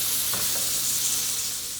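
Shrimp, spinach and carrots sauté in a pan with a steady, close broadband sizzle and a couple of faint stirring scrapes, no talking.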